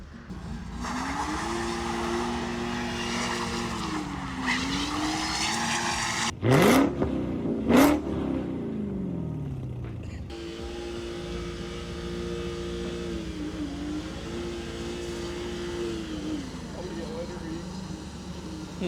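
A Subaru WRX slides and accelerates through the gears, its engine revving up and down with two sharp bursts of tire squeal mid-run, a voice speaking briefly over the engine noise.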